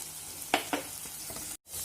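Spice powders hit a pan of frying ginger garlic paste and green chili, a soft, close sizzle punctuated by a couple of sharp stirring clicks, with a brief dropout near the end.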